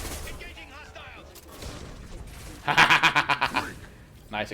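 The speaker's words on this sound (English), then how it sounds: "Nice explosion." A burst of rapid gunfire and explosive blasts from the video game Mass Effect 2 rings out in a quick cluster of sharp, loud hits, with speech from the game heard before it.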